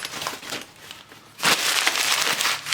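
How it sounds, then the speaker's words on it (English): A paper bag gets crumpled up close, a rough crinkling rustle that swells louder partway through and keeps crackling to the end. "Get rid of the paper bag."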